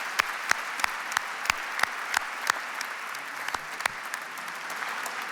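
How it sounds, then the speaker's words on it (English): Audience applause at a cancer research center gala, distinct sharp claps ringing out in an irregular patter over a steady hiss of clapping, moderately loud and close. "That's worth a clap."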